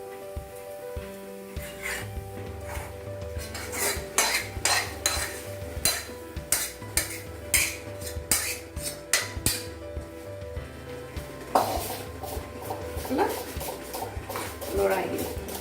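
A spoon clinks and scrapes against a dish as fish is turned with salt, Kashmiri chilli powder and coriander for steamed fish. The sharp metallic taps are irregular, with background music underneath and a voice talking at times.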